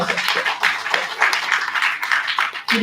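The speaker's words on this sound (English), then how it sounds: "Let us give an applause." Audience applause at a science talk on Carnatic music, a steady wash of clapping lasting a few seconds with a voice briefly audible under it.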